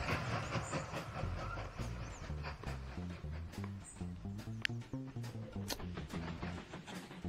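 A game train in the Mashinky transport strategy game rolls along with a steady clickety-clack of wheels over rail joints, a regular rhythmic beat under a soft hiss, continuous and moderately loud with no talk.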